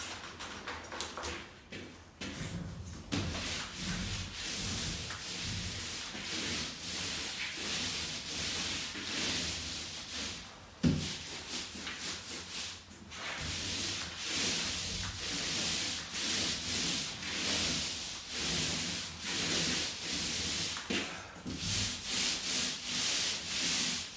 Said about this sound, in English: Now it's time to get the walls rolled.